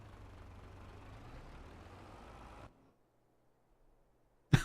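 A tractor in Farming Simulator 22 idles with a low, steady diesel rumble for a few seconds, then cuts out abruptly into near silence, followed by a short sharp knock at the end.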